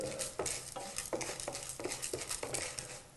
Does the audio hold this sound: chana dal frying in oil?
yes